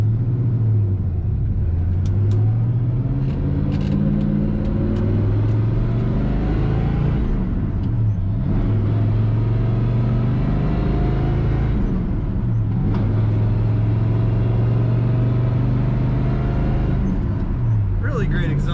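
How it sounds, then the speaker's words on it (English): A 1972 Oldsmobile Cutlass S on the road, heard from inside the cabin: a steady, loud low exhaust rumble and engine drone that rises and falls gently with the throttle. "Really great exhaust sound from this car."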